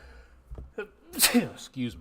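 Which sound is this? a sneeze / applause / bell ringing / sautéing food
a sneeze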